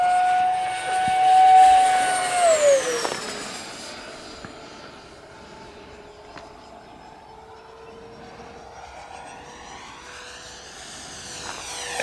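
H-King SkySword 70mm 6S EDF model jet, a yellow 990mm foam airplane on its maiden flight, whines past with a rising then falling ducted-fan tone, loudest early and fading to a steady distant hum.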